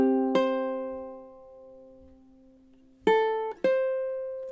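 Ukulele playing measure 6 of a film theme, with a few plucked notes and chords that ring and fade, then a quick pair of close notes near the end, played alone.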